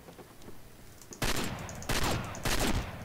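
Three loud, sharp bursts of gunfire from the Anaconda Black gun in the shooter game Combat Arms, spaced roughly half a second apart after a quiet lead-in, each with a short ringing tail.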